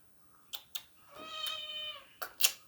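A kitten lets out a single clear, drawn-out meow, close and fairly soft, between a few light clicks and taps.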